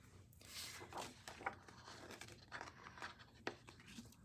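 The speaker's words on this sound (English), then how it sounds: "Definitely tearing this paper," Paper being torn by hand in a series of short ripping and crinkling bursts, fairly close, with quiet pauses between them and faint background noise.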